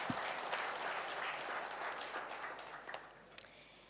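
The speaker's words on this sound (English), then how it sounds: "Can we please give him another round of applause?" Audience applause at a gala dinner after a labour law seminar, a steady wash of clapping from a crowd that thins out toward the end, with a few louder individual claps standing out.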